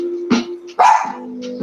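Two or three quick, close barks from a dog named Chocolate, one sharp loud yap standing out among shorter ones, with a steady hum underneath.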